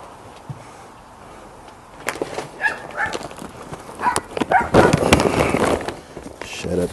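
A dog barks several times at moderate distance outdoors during rib barbecue preparation, the barks mixed with clattering handling noise and background sounds.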